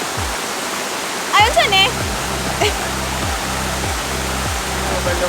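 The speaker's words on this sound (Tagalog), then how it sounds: "Miyaya Falls" Miyaya Falls in Maragusan, Philippines roars as a loud, steady wash of falling water, continuous and close, with a person's voice briefly speaking over it.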